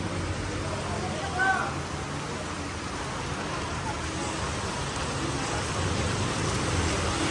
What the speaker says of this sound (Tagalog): Kusog kayong ulan as in, oh.